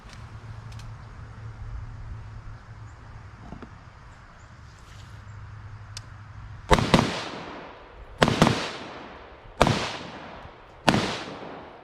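A handgun fires four sharp, loud shots at an outdoor range during a box drill, spaced about a second and a half apart after a quiet stretch of faint rustling and ambient noise.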